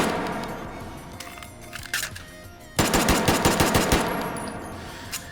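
Virtual 9mm pistol fire in the VR shooter H3VR: a few scattered sharp shots, then a rapid string of evenly spaced cracks, near and fairly loud, with mechanical clicks between and no talk.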